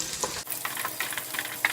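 Chopped garlic fries in butter in a pan for a white sauce pasta. It sizzles and crackles close by, with light stirring scrapes and small pops throughout.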